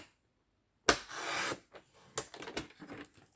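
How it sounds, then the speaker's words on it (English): A paper trimmer blade slices through card stock during card making, one sharp swipe followed by softer scraping and handling of the paper, close and alone with no voices. "So I'm going to get my trimmer again."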